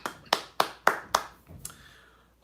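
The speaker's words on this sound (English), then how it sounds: "Round of applause, please." A lone pair of hands claps five times in a steady rhythm, sharp and close, then stops, leaving a short fading tail and quiet.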